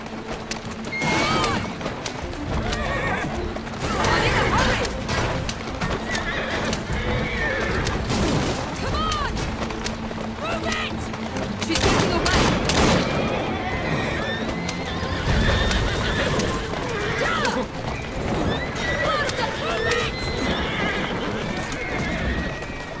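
A horse-drawn carriage in a video game: a horse neighs loudly over clip-clopping hooves and crashing game effects, with a voice speaking at times.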